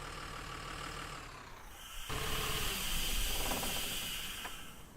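A bus engine idles with a steady low rumble in the OMSI 2 bus simulator at Ashby Station. Partway through, a sharp hiss like an air release cuts in, followed by continued hissing and mechanical rattling, with no voices.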